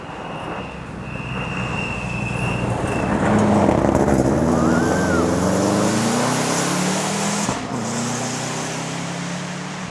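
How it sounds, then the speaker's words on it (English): A rally car engine with an exhaust leak drones loud and rough with a raspy, blatting exhaust as it passes and revs on a rally stage, rising then fading slightly; no voices. "That car's got an exhaust leak somewhere"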